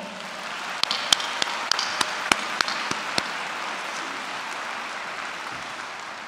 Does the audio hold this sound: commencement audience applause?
yes